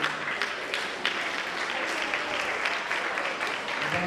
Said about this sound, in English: Please just applaud them.